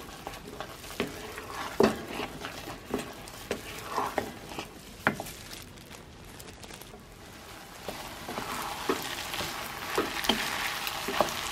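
A thick sticky rice mixture for suman malagkit is stirred in a pan, giving soft scraping and slapping strokes at an irregular pace with a faint sizzle underneath, close and fairly quiet.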